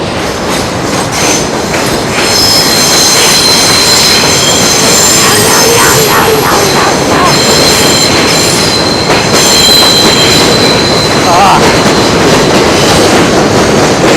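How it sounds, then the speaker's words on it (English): Subway train crossing a bridge in New York City, running loud and close, its wheels squealing in high, wavering tones over a continuous rumble and clatter. "Train on my right."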